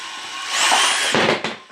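A DeWalt cordless drill runs in reverse, driving an ice fishing line reel, with a brief, close whine that rises in pitch, holds, and then stutters and slows near the end.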